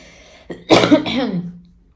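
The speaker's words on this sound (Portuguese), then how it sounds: "Desculpa essa tossida" A single close, rough cough, preceded by a short breath and trailing off into a throaty rasp.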